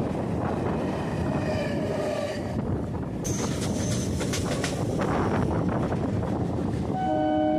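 A Sealdah-Naihati local train arriving at a station rumbles steadily with loud, broadband clatter and wind, and a tonal horn-like blast sounds near the end.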